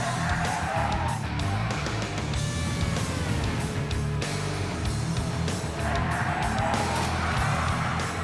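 Race car tires scrubbing and squealing hard through a corner, a steady loud screech over a roaring engine that fills the whole stretch without pause, heard close from the car.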